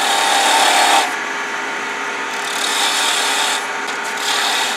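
A chess bishop is turned in wood on a lathe, a loud hissing, rasping cut that drops in level after a second, then swells and eases in uneven passes with no talk.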